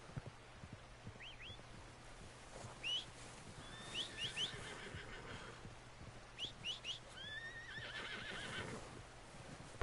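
A horse in the video game Red Dead Redemption 2 whinnies several times at moderate distance, high shrill calls in short bursts, with faint birdsong and a low steady hum behind.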